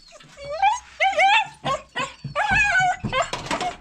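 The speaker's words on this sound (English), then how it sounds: "My dog needs to go outside." A dog yelps and whimpers in a rapid series of high, whiny cries and short barks, close and fairly loud, with no talk over them.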